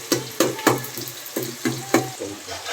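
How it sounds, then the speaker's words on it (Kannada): Onions sizzle in a pan while being fried for chicken biryani, a close, steady hiss broken by regular scraping stirs about twice a second. "ಉಳ್ಳಾಗಡ್ಡಿ ಫ್ರೈ ಆಗ್ತಾಯಿದೆ ಫುಲ್ಲು."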